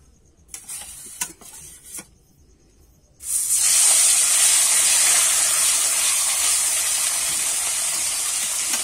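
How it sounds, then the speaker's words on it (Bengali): Fish marinated in salt and turmeric hits hot oil with a sudden loud, sustained sizzle after a few seconds of quieter clatter, then crackles steadily and close. "এবারে কিন্তু আমি নুন হলুদ মাখানো মাছটাকে দিয়ে দেব।"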